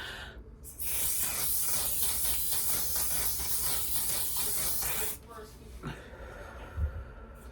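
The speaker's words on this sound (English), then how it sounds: "so let's just spray a little bit of this. Ooh, that's aerosol." Aerosol makeup setting spray hisses in one long continuous burst of about four seconds, close and loud, followed by quieter handling sounds.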